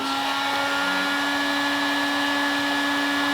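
A drying blower, likely a hair dryer, runs continuously at close range over a rinsed Honda VFR motorcycle part, producing a loud, steady whirring hum with a constant pitch and a rushing airflow hiss, no speech.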